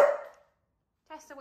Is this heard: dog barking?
yes